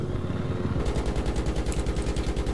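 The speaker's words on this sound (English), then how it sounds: "Just gonna blow up this structure," A helicopter's weapons fire on a structure in Battlefield 3, heard as a fast, steady stream of booming rapid shots that starts partway in over a constant low rotor drone.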